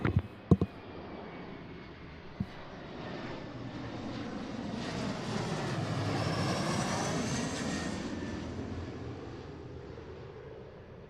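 An airliner at Seattle International Airport passes with a jet roar that slowly swells to a peak and then fades. A few sharp clicks and bits of wind noise come at the start.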